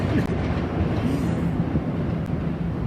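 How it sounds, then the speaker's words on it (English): A noisy train passing near Brooklyn, New York, a loud continuous rumble with clattering wheels and faint squealing, dense and steady throughout. "As you can hear right now, it's only that noisy train."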